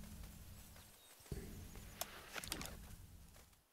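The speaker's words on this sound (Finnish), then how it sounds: "Oikealta kuuluu pupun askelia." Rabbit footsteps in the hunting game The Hunter: Call of the Wild, a few faint soft patters among quiet outdoor ambience with low rumble, off to one side.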